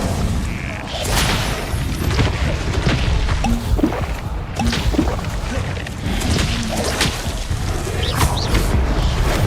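Fire spells cast in the game Hogwarts Legacy, loud continuous whooshing booms and crashing impacts layered in a dense, roaring battle mix with no clear pauses.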